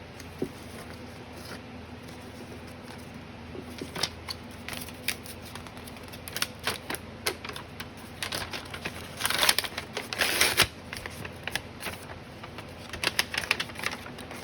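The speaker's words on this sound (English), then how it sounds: "So I'm just roughing up the edges just a little bit so the ink stays" Paper edges being roughed up by hand over scrap paper while making journal toppers: close, dry scratchy rustling and crinkling in irregular bursts that grow denser and louder midway, with no talking.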